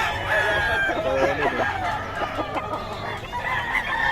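Several banded WPC gamecocks, stags held for sale, crow and cluck amid a dense, noisy yard background, overlapping and steady throughout, with a busy mix of bird calls close by.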